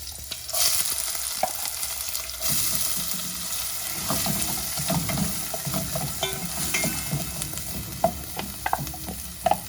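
Chopped onion hits a hot pan with whole chilies and starts frying, a steady close sizzle with occasional stirring scrapes and clicks.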